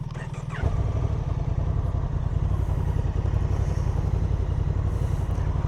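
Honda DCT automatic motorcycle engine catching and settling into a steady, low, rumbling idle after a brief starter burst, close and continuous with no talking.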